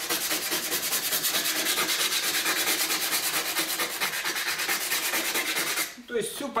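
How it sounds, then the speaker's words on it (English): A car body with a rust hole is hand-sanded with 120-grit sandpaper, making fast, even, rhythmic rasping strokes that continue close and steady before a brief bump and scuff at the end. "Here I have a 120 grit sandpaper and start leaving scratch marks, working manually."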